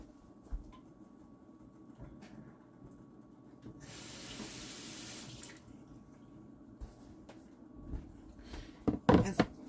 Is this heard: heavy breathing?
no